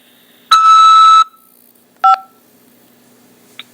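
Telephone keypad tones from a corrections facility call system: a long, steady beep followed by a short dual-tone press of the 5 key to accept the call and a faint brief blip after, clear and isolated.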